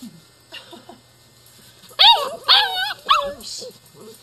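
A dog gives a few sharp barks and yelps in quick succession, with whiny, whimpering tones between them, close by.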